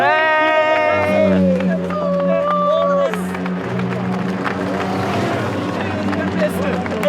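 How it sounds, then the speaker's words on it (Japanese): Race car passing at the Nürburgring, its engine note climbing then dropping as it goes by, heard over steady background noise and low rumble. "車が来ました。"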